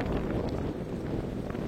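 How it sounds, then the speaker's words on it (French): Strong wind gusts during storm Benjamin roaring through a park in Isère, France, a loud steady rumbling buffet battering the microphone without pause. "il y a des rafales qui passent de temps en temps, c'est impressionnant"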